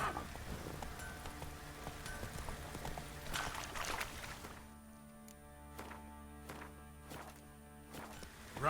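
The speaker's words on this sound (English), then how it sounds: "Run, Roach" Horse hooves in the video game The Witcher 3, a rapid rhythmic clip-clop of galloping over a rainy outdoor ambience, steady and moderately close, with no talk.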